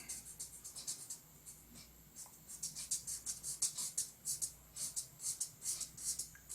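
Pencil rapidly shading the middle of a quick sketch, soft scratchy strokes repeating in a quick back-and-forth rhythm, close and quiet with no talk.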